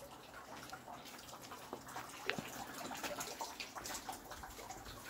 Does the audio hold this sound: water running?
yes